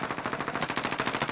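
Rapid automatic gunfire from a video game shooter, a steady stream of closely spaced loud bursts with no pauses.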